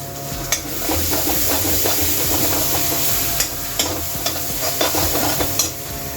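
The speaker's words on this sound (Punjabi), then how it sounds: "ਫਿਰ ਮੈਂ ਤੜਕਾ ਭੁੱਜ ਗਿਆ ਸਾਡਾ" Tadka of pre-mixed spices sizzling in oil in a pan, with stirring scrapes and light crackles over a dense, steady sizzle, close and alone.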